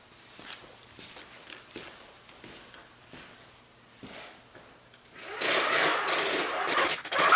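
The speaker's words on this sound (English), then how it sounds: "let's pull out all the hose now and see how much we got" PVC compressed air hose pulled off a hose reel, light irregular clicks and rattles at first, then a louder rapid whirring and rattling of the unreeling hose near the end.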